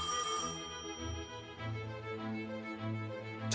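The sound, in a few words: telephone ringing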